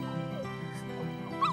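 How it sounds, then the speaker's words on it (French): A lost stray dog whimpers and yips in short high whines over a steady background of music and low talk, a brief sharper whine rising near the end. "un chien, maman. Il a l'air perdu."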